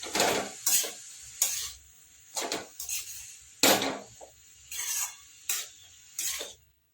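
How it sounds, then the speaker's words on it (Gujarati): A spoon stirs a cabbage and potato curry with turmeric in a pan, giving bursts of close scraping and clatter separated by brief pauses, with a light sizzle beneath. "થોડી હળદર એડ કરીશું મિક્સ કરી લઈશું"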